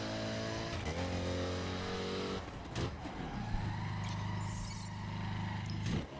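A video game motorcycle engine, a dirt bike, drones and revs up and down in a steady harmonic whine, dropping and climbing again over several seconds, with a short skid-like burst near the end.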